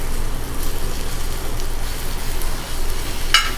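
Egg yolk sizzles as it fries in a ginger-garlic masala, a steady close crackle and hiss with a faint stir near the end.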